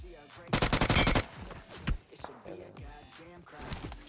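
In PUBG Mobile, a close, loud burst of rapid automatic gunfire is followed by scattered single shots and shorter bursts, with other game sounds between them.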